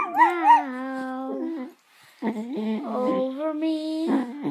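A dog howls in long wavering tones like singing, two sustained phrases separated by a short pause, loud and close with no talking over it.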